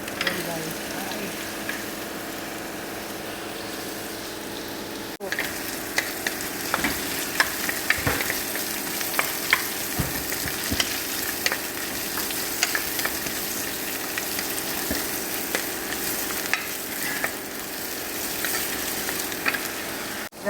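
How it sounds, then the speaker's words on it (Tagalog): Steady loud sizzle of potatoes and carrots frying together in a pan for a Lenten soup, with scraping stirs and occasional utensil knocks over a continuous hiss. "Tapos ilagay na rin natin ang patatas sa carrots."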